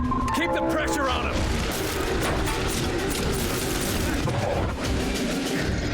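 Sustained gunfire and booming impacts fill a firefight in The Bureau: XCOM Declassified, loud and continuous over dense game noise, with voices talking over the combat.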